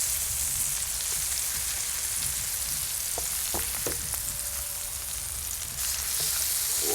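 Liver sizzles and spits in a frying pan with a continuous crackling hiss and a few sharper pops, all without any voices.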